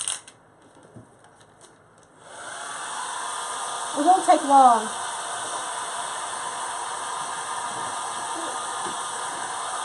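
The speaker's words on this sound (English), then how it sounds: "We're just gonna dry it real quick with the hair dryer." After a quiet start, a hair dryer switches on and blows with a steady, loud whir, while a voice briefly speaks over it.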